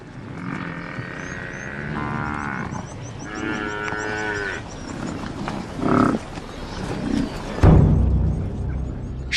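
A herd of African buffalo lows and moos in the wild during the dry season, several overlapping deep calls rising and falling over a steady outdoor background, with a louder close grunt near the end.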